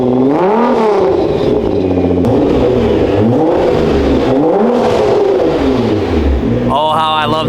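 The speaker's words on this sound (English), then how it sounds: "let's give her some baby revs" A twin-turbo car engine revs repeatedly in rising and falling surges, loud and close, with a brief higher whine near the end.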